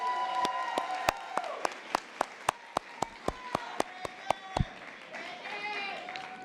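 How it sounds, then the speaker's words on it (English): Sharp, evenly spaced claps ring out in a steady rhythm from an audience at a spring nursing school convocation after the nursing pen is bestowed, over a low murmur of the hall, then fade to room noise near the end. "Let's give them a round of applause"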